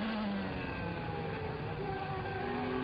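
A Williams FW16 Formula 1 car with a Renault engine screams past as a continuous high-pitched whine, rising tones sweeping upward through the short stretch, faint and distant with a hissy, broadcast-like quality.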